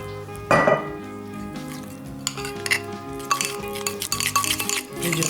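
A spoon mixes icing of powdered sugar and Irish cream in a bowl, with clinks and scrapes against the bowl, one sharp knock early and then busier rattling stirring toward the end.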